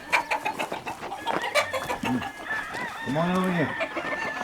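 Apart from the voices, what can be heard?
chickens clucking in a rooster farm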